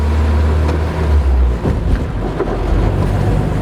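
Classic Mini van driving on the road, shifting from second to third gear, with a steady low engine rumble and buffeting wind noise throughout, a brief dip in drive around the gear change.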